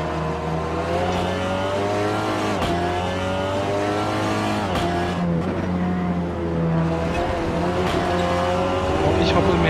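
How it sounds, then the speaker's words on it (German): A Seat Leon TCR race car at Brands Hatch Indy in Assetto Corsa, engine droning loud and close as it thumps over curbs, with sharp jolts and bumps and someone talking over it. "Ich hoppe mehr schlecht als recht über die Curbs."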